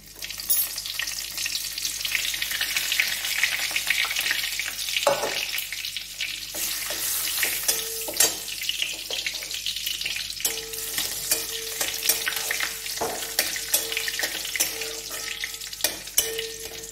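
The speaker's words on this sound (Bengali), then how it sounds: "ওই তেলে আমি জিরে, শুকনো লঙ্কা আর তেজপাতা দিয়ে দিচ্ছি।" Cumin seeds, dried red chillies and bay leaves fry in hot oil for a Bengali bottle gourd and prawn dish, a constant bright sizzle with crackles and pops, punctuated by scrapes and taps of a stirring utensil.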